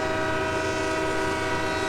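A loud, sustained train air horn blares continuously at Cajon Pass, close and steady, with a deep rumble underneath.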